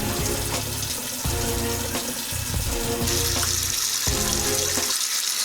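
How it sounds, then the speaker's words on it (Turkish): Tap water runs steadily into a small toy hot water pool, a continuous splashing stream that stays close and fairly loud and then cuts off near the end. "Şimdi sıcak su havuzunu dolduralım."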